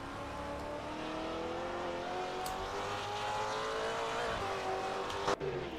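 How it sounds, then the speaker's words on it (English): Touring race car engine at a circuit in Adelaide running rough and ugly, a loud continuous harmonic drone with pitch wavering and slowly rising, plus a sharp mechanical knock near the end. "Oh, that's an ugly sound coming from that car."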